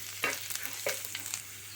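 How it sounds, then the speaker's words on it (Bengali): Chopped ginger and garlic are stirred in hot oil for a jackfruit dish, with a faint steady sizzle broken by several light spatula scrapes and taps against the pan, close but quiet, with no talking. "ওই তেলের মধ্যে দেব আদা কুচানো আর রসুন কুচানো 1 চামচ করে আছে। একটু তেলে নাড়াচাড়া করে নেব।"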